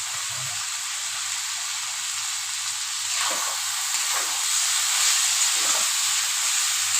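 Banana flower curry (mocha ghonto) made with Gobindobhog rice sizzles steadily as it fries in ghee with garam masala. The hiss is continuous and close, growing slightly louder partway through, with no talking.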